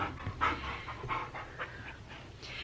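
A puppy pants rapidly and close by, a quick rhythm of soft breathy huffs running without pause and no voices.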